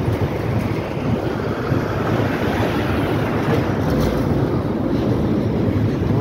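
A CSX freight train rolls past on the Delair Bridge, a loud continuous low rumble and roar of wheels with wind noise, steady throughout with no talk.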